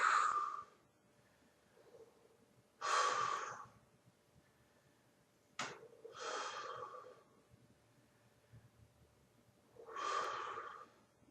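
Slow, deep breathing while holding a yoga pose, four long audible breaths through the nose spaced a few seconds apart, close and soft, with quiet pauses between them.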